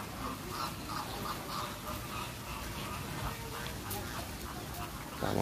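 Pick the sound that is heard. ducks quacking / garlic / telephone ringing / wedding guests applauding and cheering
ducks quacking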